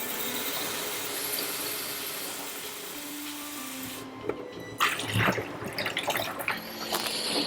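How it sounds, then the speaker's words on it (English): Diluted photographic chemistry rinse water is poured away, a splashing, gurgling pour that starts abruptly midway after a quiet hiss and continues at close range. "So I'll just dilute and get rid of that rinse water."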